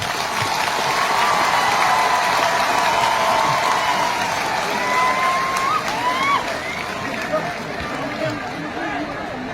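A large crowd applauds steadily, with scattered cheers and a murmur of voices mixed in throughout.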